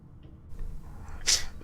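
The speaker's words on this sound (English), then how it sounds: "Hang on, sneeze alert." A single sharp sneeze bursts out after a quiet stretch, close and loud, from someone with seasonal allergies while playing Divinity: Original Sin 2, with faint game sound underneath.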